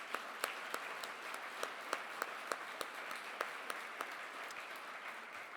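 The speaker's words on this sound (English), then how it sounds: "so let's give them a round of applause." Sustained audience applause at a community annual dinner, dense even clapping from a large room with a few sharper claps standing out, moderately distant.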